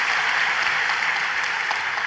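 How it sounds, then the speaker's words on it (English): Steady audience applause, a dense even wash of many hands clapping at once, holding at a constant level for about two seconds with no voices rising above it. "So, yes, round of applause."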